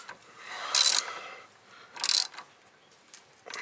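A ratchet tightens a subframe bolt on a VW MK2 in three short bursts of rapid clicking, close and clear over a quiet background.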